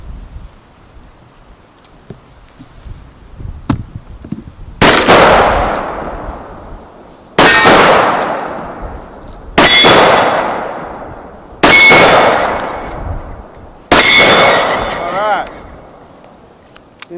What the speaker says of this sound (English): shoot 5 more rounds of 44 Magnum.